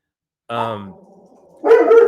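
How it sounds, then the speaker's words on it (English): A dog barks twice indoors, a close, loud yelp followed by a harsher, louder bark after a short pause, with a person talking nearby. "the dog's making an appearance as always"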